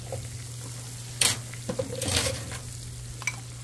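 A spoon stirs a ketchup and Worcestershire sauce mixture in a bowl, making a few quick, close scraping and clinking strokes with short pauses between them.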